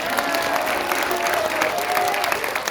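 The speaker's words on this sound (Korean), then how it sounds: "신혜식 대표에게도 여러분 감사의 박수를 보내주시기 바랍니다" An audience applauds at a political gathering, a dense continuous patter of many hands clapping at steady volume, with faint crowd murmur underneath.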